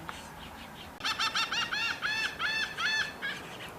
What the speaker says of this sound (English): I'm going to feed them to the birds, to the seagulls, and to the pigeons.